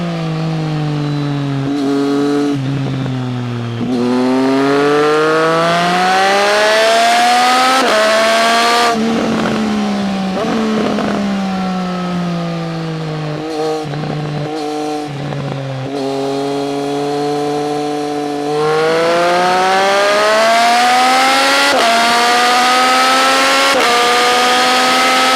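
A Triumph Street Triple 765 RS motorcycle is ridden on the road, its three-cylinder engine revving up through the gears in repeated rising pulls, with brief drops between shifts, loud and close throughout.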